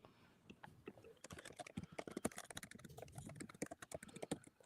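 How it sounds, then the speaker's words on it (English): Rapid, continuous clatter of fast typing on a computer keyboard, dense bursts of keystrokes building after the first second, fairly close and alone with no talk. "somebody typing fast over there"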